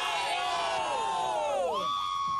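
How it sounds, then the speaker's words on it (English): A bar crowd in Columbus, Ohio shouts a long loud "OH" together, a sustained massed yell that dips and trails off into a brief higher cry. "I need you to scream out OH as loud as you can"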